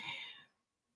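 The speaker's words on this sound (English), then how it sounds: "I'm probably just coughing because" A single short, faint cough that fades quickly into near silence.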